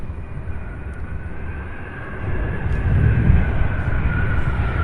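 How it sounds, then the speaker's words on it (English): MD-11 jet arriving at Louisville International Airport, a broad low engine rumble that grows louder through the second half, distant to mid-range with no talk. "MD-11 right here."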